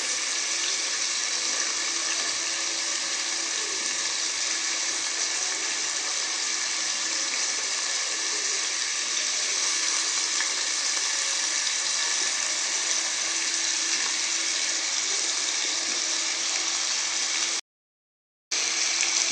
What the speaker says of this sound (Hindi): हम अपने आलूओं को फ्राई कर रहे हैं।